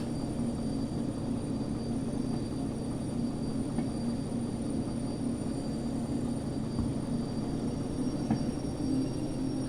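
A locomotive in the Derail Valley train game throttles up, giving a steady, low engine drone with a constant hum and faint mechanical ticks, even and unbroken throughout.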